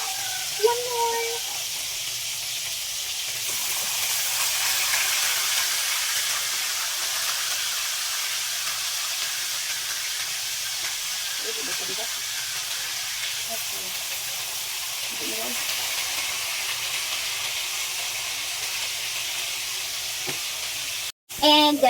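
Fish fried in oil in a pan hiss and sizzle steadily and loudly for a long stretch, a broad continuous crackle with a few faint clinks of handling over it and no talking.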